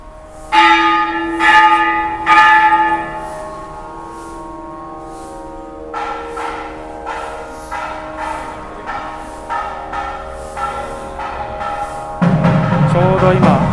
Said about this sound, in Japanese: ちょうど今お祈りの時間で音楽が聞こえてます